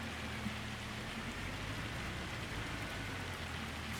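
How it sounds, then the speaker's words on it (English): Hail falls in a farming video game, a faint, steady patter and hiss running evenly throughout with no voices. "Still hailing."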